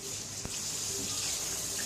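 Water running from a tap at home gives a steady, continuous gushing hiss, with one brief knock near the start.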